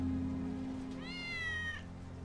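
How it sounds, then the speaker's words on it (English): A cat meows in Final Fantasy 7 Remake, a single drawn-out, clear meow rising and then holding, heard alone over a steady low game ambience. "Hear that? kitty? That's Wedge's cat."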